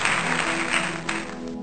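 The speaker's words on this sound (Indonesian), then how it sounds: "beri tepuk tangan dulu buat Tuhan" A church congregation claps for God during a worship service, a dense sustained wash of applause that stays loud throughout and fades slightly toward the end, with no speech over it.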